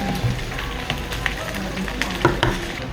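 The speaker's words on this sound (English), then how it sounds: "And it's sizzling." A steak, served with chips, egg, gravy and pâté on a hot plate at a Hanoi eatery, sizzles in a close, steady crackling hiss with small sputtering pops.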